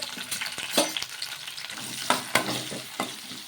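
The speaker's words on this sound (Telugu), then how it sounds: "మన కారాన్ని బట్టి పచ్చిమిర్చి ఉల్లిగడ్డ టమోటా కూడా వేసుకొని మగ్గించుకోవాలి" Green chillies, onion and tomato frying in oil in a pan, a soft steady sizzle broken by several sharp stirring scrapes, close up with no voice.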